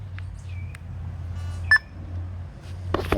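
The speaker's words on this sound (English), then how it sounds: "Once you hear that beep" A short electronic beep from a Simplex metal detector during a factory reset rings out once over a quiet low hum, with a couple of faint clicks around it.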